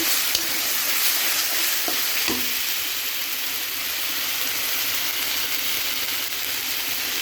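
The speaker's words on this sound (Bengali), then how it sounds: "এখন এগুলোকে ভালো করে কষিয়ে নেব" Ginger and garlic paste frying in a pan while a spoon stirs it, giving a steady close sizzle with a few scraping clicks near the start. No one speaks.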